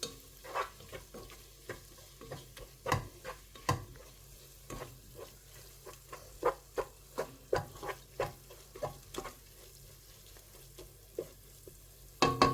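Sliced onions with crushed ginger and garlic frying in a single pot for beef keema rice: a soft sizzle under repeated scraping stirs of a spoon against the pot, close and fairly quiet.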